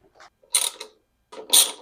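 A ratchet wrench clicks in two short bursts while loosening 8 mm bolts on an old Craftsman lawnmower carburetor, close and dry against silence.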